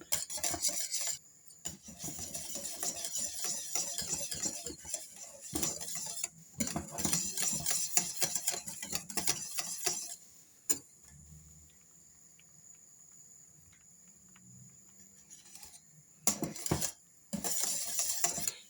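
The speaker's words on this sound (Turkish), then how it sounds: "Şöyle bir yemek kaşığı tereyağını da ekliyorum. Tekrar karıştırıyorum." A spoon stirs orange pudding with vanilla and butter in a cooking pot, scraping and clinking steadily in close, busy bursts with brief pauses, then going quieter before a few final strokes.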